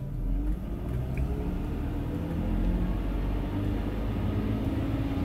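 A BMW M54 inline-six with lack of power is held at raised revs as the gas is pressed, giving a steady, loud, low engine drone with a slight rise in pitch and no talking.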